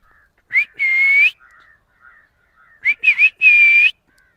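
A person whistles to call a pet dog, with two bursts of shrill, sustained whistling separated by a pause and a faint voice murmuring between them.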